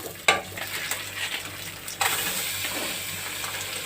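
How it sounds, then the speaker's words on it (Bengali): Rice and fried onion stirred and mixed in a pan while cooking pulao, with a sharp clank at the start and another around the middle, then a steady sizzle under scraping stirs, close and fairly quiet, with no voices. "চালটা বাকি চালটা দিয়ে দিই, দিয়ে নাড়িয়ে মিক্স করে নিয়ে আসি।"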